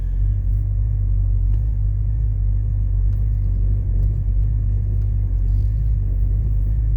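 A 1979 Pontiac Trans Am with a mild build rumbles steadily from inside the cabin on a test drive, its deep, loud low drone constant throughout with no speech.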